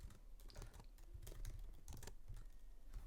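Quick bursts of clicking keystrokes on a computer keyboard, close and fairly quiet, with uneven rhythm and brief pauses between runs of typing.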